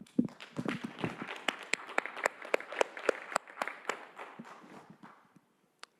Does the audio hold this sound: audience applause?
yes